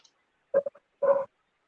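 Dogs bark indoors in two short outbursts, a choppy double bark followed by a longer, rougher one, moderately loud against an otherwise quiet room.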